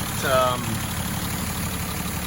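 A Datsun 260Z engine idles after its first start, a steady, rough low rumble at moderate level with a brief whine near the start and faint background hiss.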